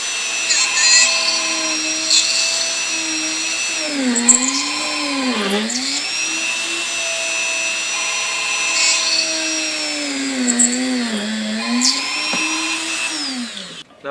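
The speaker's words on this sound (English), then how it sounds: "Now we finish with a press drill" A small drill press whines steadily with rising and falling motor pitch as it bores holes for dental implant placement, the tone dipping each time the bit bites.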